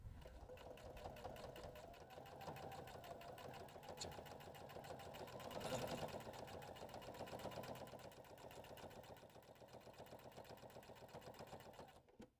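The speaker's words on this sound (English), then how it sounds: "we're going to just top stitch across the fold" A sewing machine top stitches across a fold of fabric with a fast, steady mechanical whir and rapid needle ticking, continuous and faint, swelling slightly midway.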